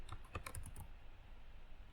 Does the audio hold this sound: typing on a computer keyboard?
yes